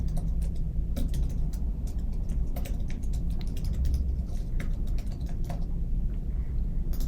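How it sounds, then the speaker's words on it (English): Typing on a computer keyboard while setting up a personal brand WordPress blog: a quiet, steady patter of light key clicks with irregular rhythm, heard close and alone over faint background hum. "Once you're done typing, you want to hit that return button to make sure that it customizes."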